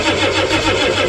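A 1990 Ford E350 van engine cranking over on the starter with a low draining battery, a steady pulsing churn, close and loud, without catching.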